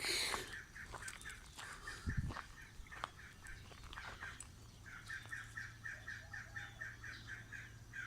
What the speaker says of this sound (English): you can hear all the morning birds and the roosters in the background